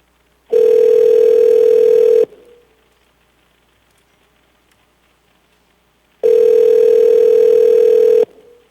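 Two long, loud steady telephone tones, each about two seconds, separated by a quiet pause on a phone line into a public assembly meeting.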